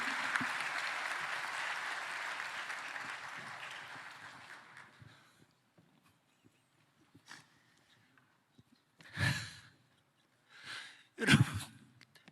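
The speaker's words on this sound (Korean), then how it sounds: "박수로 환영해 주십시오." Audience applause at a church denominational general assembly prayer meeting welcoming a pastor, steady clapping for about five seconds that fades away, followed by a few brief sounds and someone speaking.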